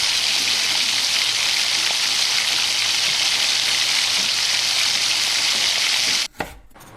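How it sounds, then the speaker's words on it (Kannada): Mustard and cumin seeds splutter in hot oil for khara pongal, a dense, loud, continuous sizzle and crackle that cuts off abruptly near the end. "ಮೇಲೆ ನಾವಿಲ್ಲಿ ಸಾಸಿವೆ ಜೀರಿಗೆನ ಸೇರಿಸ್ಕೊಳ್ಳೋಣ. ಅದು ಕೂಡ ಚಟಪಟ ಅಂತ ಸಿಡಿಯುತ್ತೆ ಅಲ್ವಾ"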